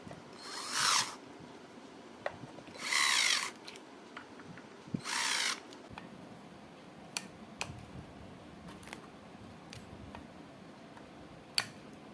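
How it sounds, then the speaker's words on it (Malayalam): A power drill drives screws into a ceiling fan cover during a BLDC conversion kit fitting, three short loud whirring bursts followed by scattered small clicks and taps of handling, no speech. "ഇപ്പോൾ നമ്മൾ സ്ക്രൂ എല്ലാം ടൈറ്റ് ചെയ്ത് കഴിഞ്ഞു."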